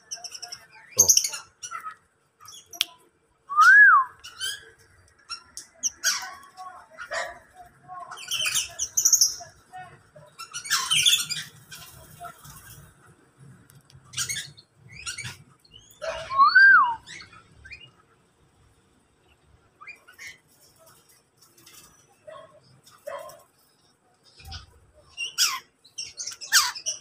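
Black-naped orioles (kepodang) call outdoors in scattered bursts of clear whistles and chirps, some loud and near, others faint, separated by quiet gaps.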